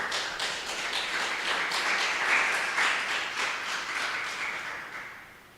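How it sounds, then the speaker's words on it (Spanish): A church congregation claps loudly and steadily in praise, a dense wash of many hands lasting several seconds with no voices over it, then thinning out toward the end. "Dale un fuerte aplauso al Señor."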